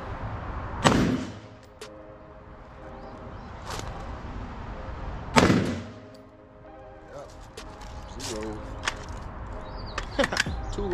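A Bear Creek Arsenal BC-15 rifle fires at an outdoor range: several sharp, loud reports spaced a few seconds apart, the strongest two standing out clearly, with quieter clatter and voices between shots.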